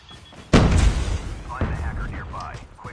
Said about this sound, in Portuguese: Tacaram granada em mim aqui.